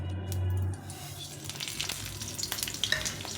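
Dried red chili, cumin and mustard seeds crackle in hot oil for a low-oil vegetable poha pilaf, a loud burst of sizzling that settles into a busy, spattering fry with no talking.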